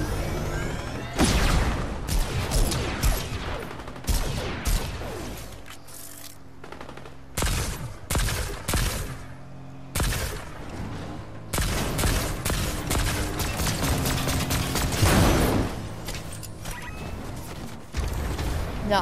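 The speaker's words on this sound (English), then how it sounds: "Everyone's shooting me right now." Gunfire striking the player in an Iron Man video game, with dense, loud volleys of shots, impacts and metallic crashes in near-continuous bursts and only brief lulls.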